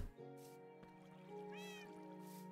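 A cat in Minecraft gives a short, high meow partway through, sounding fairly quietly over steady background music and game ambience, with no talking.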